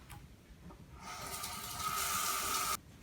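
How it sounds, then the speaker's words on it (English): Hot water pours from a tap into a plastic Soylent bottle, a rising gush whose pitch climbs steadily as the bottle fills, then cuts off abruptly after a faint quiet start. "This is where the hot water comes in, so make sure you have hot water ready."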